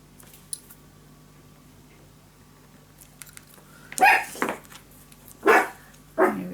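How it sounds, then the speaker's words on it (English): A small dog barks in the background of a quiet indoor room, giving about four short, sharp yaps spaced over a few seconds with near-silence before them. "There's the little one who's barking."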